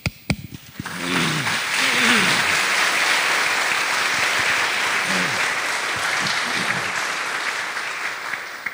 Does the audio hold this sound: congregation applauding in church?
yes